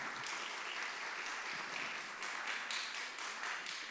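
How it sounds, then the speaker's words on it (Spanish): Audience applause for professor Héctor Díaz, seated in the room, at a podcast-style talk: a dense, steady patter of many hands clapping, fairly faint and distant, continuing evenly throughout. "para quien pido un aplauso"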